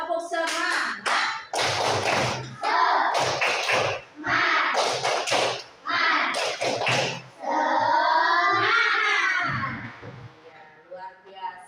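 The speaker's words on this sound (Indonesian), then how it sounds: "Ya, tepuk semangat." A group of children joins in a rhythmic spirit clap (tepuk semangat) in a classroom, loud bursts of patterned clapping in quick sequences with chanting voices between.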